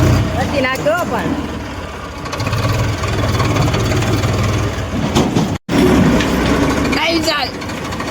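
A running tractor engine on a village road in Gujarat, a loud steady diesel rumble heard close by, with a sharp dropout midway and bursts of people talking over it.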